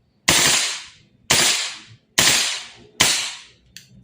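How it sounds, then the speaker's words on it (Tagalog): Colt URGI 14.5 airsoft gas blowback rifle firing in burst mode: four loud, sharp bursts spaced about a second apart, each with a quick decaying tail, then a brief fainter click at the end. "switching to full auto, pero burst mode lang yung gagawin ko. Burst mode muna."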